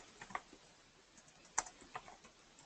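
Faint, sparse keystrokes on a computer keyboard as a multi-page form is filled in, a handful of soft clicks scattered over a few seconds in a quiet room.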